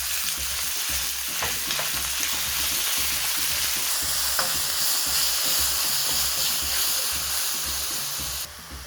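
Meat sizzling steadily in hot olive oil in a pan, a dense, loud frying hiss lasting throughout with occasional small pops, ending with a slight drop.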